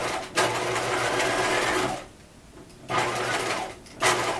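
A sewing machine stitches a fisheye dart in fabric in two steady, close whirring bursts, separated by a short pause, and a third burst begins just at the end.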